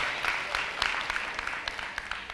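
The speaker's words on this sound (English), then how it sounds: "I want you to give another round of applause to that group of rock stars." Audience applause at a summit, a dense steady patter of clapping filling the whole moment at moderate loudness, with scattered louder individual claps standing out from the crowd.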